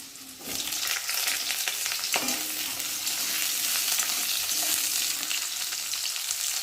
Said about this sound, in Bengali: আর এখন আমি এই যে উচ্ছেগুলো ভালো করে ভেজে নেব